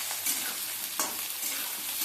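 Eggplant frying with potato and beans in a pan, a close steady sizzle broken by a few quick stirring scrapes, no talking.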